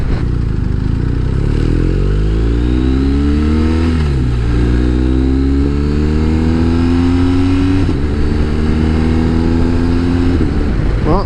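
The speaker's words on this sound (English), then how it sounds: "So the kind of noisy helmet, even though it's full face modular, it's still quite noisy." Loud, constant rushing wind roar inside a motorcycle helmet at over 70 mph, without earplugs, over a droning engine whose pitch rises and falls through gear shifts, heard from close up.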